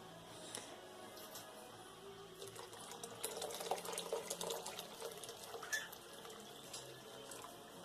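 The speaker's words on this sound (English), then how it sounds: "I'm going to add 3 cups of my vegetable broth that I just made" Homemade vegetable broth is poured into a pot of beef stew, making a faint liquid splashing and gurgling that swells for a few seconds and then eases, with no voices.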